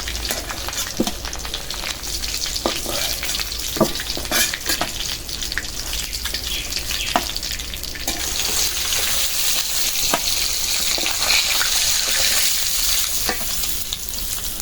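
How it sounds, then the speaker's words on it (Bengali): Hilsa fish pieces fry in oil over low heat, a constant crackling sizzle punctuated by occasional spatula taps and stirs, growing slightly brighter partway through. "মাছগুলি অনেক ভালো করে ভেজে নিলাম কম জালে"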